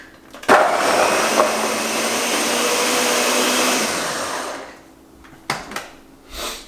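Blender with dull blades mixing a green smoothie: a sharp click, then a loud, steady whirring grind for about four seconds that winds down and stops, followed by a few brief clicks and knocks.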